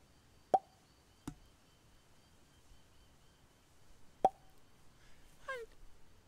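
Striped marsh frog calling: sharp single 'plop'-like pops spaced a few seconds apart, fairly faint against a quiet outdoor night background.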